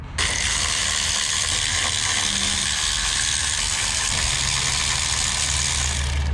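Bolts being ratcheted off while removing the starter on a 2013 BMW X5 diesel, a loud continuous mechanical whir and clicking close up that runs unbroken for several seconds, with no talking.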